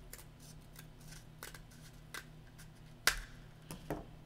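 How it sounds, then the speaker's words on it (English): Scissors cut straight up a cardboard toilet paper roll tube in several quiet, separate snips, with one sharper, louder crunch of the blade partway through. "we're going to take the scissors, and I'm just going to cut straight up that tube."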